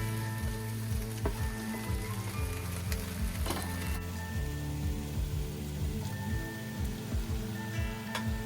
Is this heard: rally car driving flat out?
no